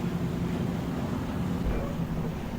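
A river ferry raft loaded with cargo moves under way, its engines giving a steady low drone beneath constant wind buffeting on the microphone, with faint water wash and no speech.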